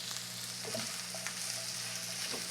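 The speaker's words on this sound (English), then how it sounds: "Next, I'm gonna add my diced tomato." Diced tomato tipped into a hot pan of rinsed chickpeas for chole, a steady close sizzle and frying hiss running throughout with a few soft knocks and shifts as the pieces land, no talking.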